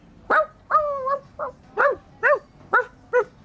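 Human voices imitate dogs barking, giving about seven short, yappy woofs and yelps in an uneven rhythm, close and fairly loud, with one slightly drawn-out bark among them.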